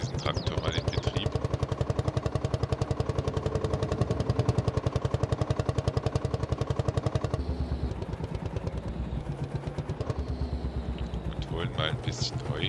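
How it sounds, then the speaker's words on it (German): Tractor engine running in the Farming Simulator 22 video game, a steady pulsing idle-like chug that runs throughout, at moderate level with no talk over it. "Dann setzen wir diesen Traktor mal in Betrieb."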